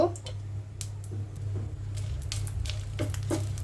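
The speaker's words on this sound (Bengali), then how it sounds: "ভর্তাটা বানানোর জন্য এখানে আমি কিছু শুকনো মরিচ ভেজে নেব।" Dried red chillies fry in oil in a pan for a pumpkin vorta, giving a steady, close sizzle with brief scraping stirs and light crackles.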